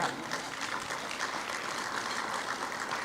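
An audience claps at a medical residents' white coat ceremony, a dense, even wash of many hands held at a steady level for a few seconds, somewhat distant and with no voices over it.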